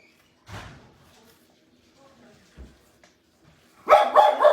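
Dogs bark in a home kitchen, a few short scattered woofs followed by a louder burst of barking near the end, with quiet gaps between.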